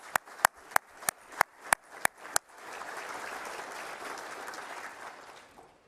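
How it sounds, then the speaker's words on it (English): An audience at a real estate industry event applauds. Eight sharp, evenly spaced claps come first, then a broad, steady wash of many hands clapping together that fades at the end. "Could you please take a moment to help me thank Krista with a round of applause?"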